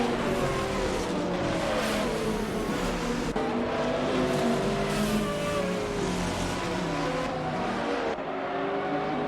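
GTR race cars roar around Road Atlanta in a racing video game, several engines revving and shifting at once in a dense, continuous high-pitched drone with occasional tire noise.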